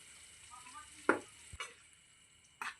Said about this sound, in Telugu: పచ్చిమిర్చి పేస్టు ఇది పచ్చివాసన పోయే వరకు వేయించుకోవాలి